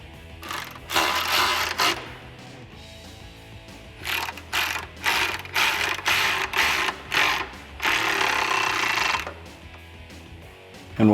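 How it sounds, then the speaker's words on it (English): A 13mm socket on a ratchet tightens a running board bracket bolt under a 2019-2022 Silverado or Sierra 1500 pickup. Close, crisp clicking arrives in repeated quick strokes with brief pauses between them. "After you get your bolt hand tightened in, go ahead and hit it with your 13mm socket."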